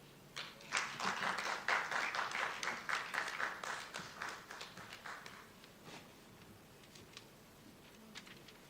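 A conference audience applauds after a presentation: fairly faint clapping builds, holds for a few seconds, then thins out into scattered claps.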